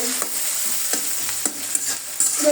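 Noodles are stirred and fried in a pan for breakfast, giving a steady close sizzle broken by repeated scraping strokes of the stirring utensil, with no talking.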